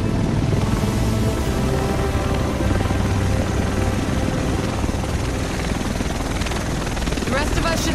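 A helicopter in a fan-made Tom Clancy's The Division trailer set in Manhattan, its rotor and engine making a loud, dense, unbroken roar that fills the whole stretch without letup.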